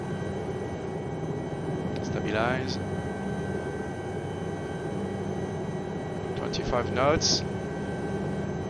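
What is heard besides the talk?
Lama SA315 helicopter flying in strong winds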